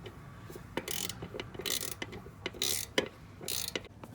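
A hand ratchet clicks in short, quick bursts on the bolts of the exhaust manifold cover of a 2005-2019 Nissan Frontier, close and fairly quiet, with brief pauses between each run of clicks.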